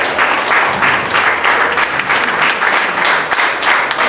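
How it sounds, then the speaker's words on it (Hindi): Loud, dense audience applause at a book launch, continuous clapping from a full room filling the whole stretch without talk. "तालियां बजती रहनी चाहिए"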